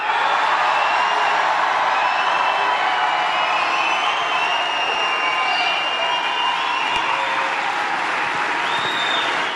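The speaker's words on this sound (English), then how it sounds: "Let's give him a round of applause." A large outdoor political rally crowd in Juneau, Wisconsin applauds and cheers loudly and steadily, with whoops rising over a dense roar that holds its level throughout without pause.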